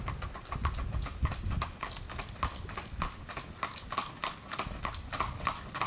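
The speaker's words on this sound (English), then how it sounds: "Some Mennonite in their carriage." A Mennonite horse-drawn carriage clip-clops past on a road between North Wales and Bluebell, Pennsylvania, with steady, close hoofbeats that repeat in an even rhythm throughout.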